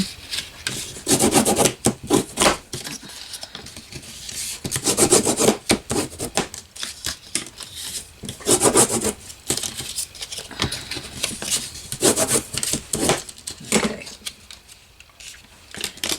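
Paper being burnished flat with firm rubbing strokes while making a file folder journal, coming in repeated bursts of scraping friction with short pauses between, close and fairly loud, with no talking.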